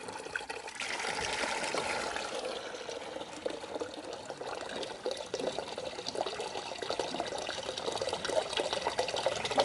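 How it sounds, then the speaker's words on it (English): Water runs and trickles steadily for several seconds from an RV travel trailer's holding tanks, a continuous gushing drain with a slight hollow splash, close by and fairly quiet. "you want to get that water out of your holding tanks now"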